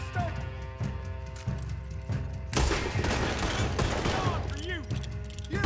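Rapid gunfire bursts from Red Dead Redemption 2, with repeated shots crackling through a dense in-game mix of music and horse hooves, the firing intensifying sharply partway through while voices shout over it.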